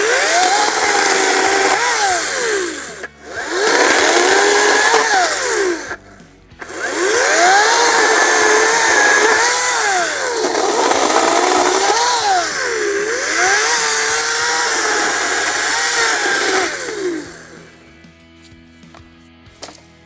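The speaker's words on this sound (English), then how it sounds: "try out the battery powered chainsaw" A Ryobi 14-inch 40-volt brushless lithium-ion cordless chainsaw cutting wood, its loud close electric whine rising and dipping as the blade bites, with brief stops between cuts before spinning down at the end.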